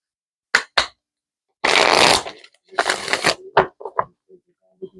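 A deck of Soul Symphony oracle cards being shuffled by hand: a few quick riffling flicks, then a long papery shuffle, followed by scattered shorter riffles and taps, close and clear in a quiet room.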